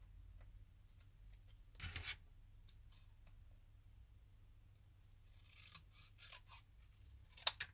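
Scissors snip through a piece of material in a quiet room, with a few soft scattered clicks and rustles and a clearer cut near the start, then more snips toward the end.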